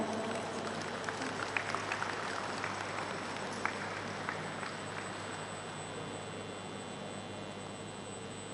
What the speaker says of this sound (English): Give applause for the MOM signing.